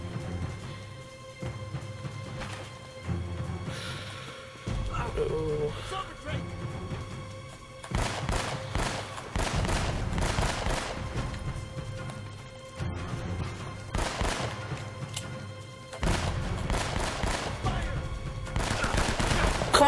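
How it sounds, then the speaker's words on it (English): Gunfire in the video game Uncharted: Drake's Fortune, bursts of rapid shots and impacts arriving in dense clusters, loud and close, with someone talking between and over the volleys. "That's a really stupid time to come up to shoot, Sully."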